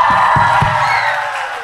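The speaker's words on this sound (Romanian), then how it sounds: "aplauze pentru Ilia!" Audience cheering and applause at a high school concert in Ilia fill a dense, steady wall of crowd noise. A few low thumps sound early on, and the noise fades slightly toward the end.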